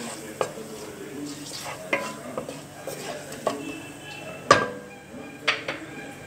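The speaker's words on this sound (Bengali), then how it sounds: "তেলটা গরম হয়ে গেছে, এইবার আমি এতে 8 ছোট চামচ আস্ত জিরেটা দিয়ে দেব" Whole cumin seeds sizzle softly in hot mustard oil in a pan, with a spoon stirring and knocking against the metal in scattered taps over the quiet frying.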